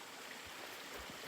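Creek water at a Pacific Crest Trail water source flows in a soft, continuous wash, faint and even with no other clear sounds.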